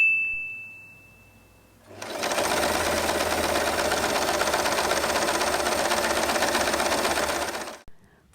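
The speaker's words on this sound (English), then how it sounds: "Fold in half and sew this part." A sewing machine stitches a small folded fabric strip, a fast, even mechanical whirr starting abruptly after a quiet moment and running loud and unbroken for about six seconds before stopping.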